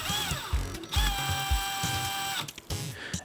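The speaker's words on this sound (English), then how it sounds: "you can actually use a power drill to help you guys to wrap this second wire" A power drill whirs in short bursts, twisting a second wire around another to make a cable, its motor whine rising and stopping several times amid mechanical ratcheting.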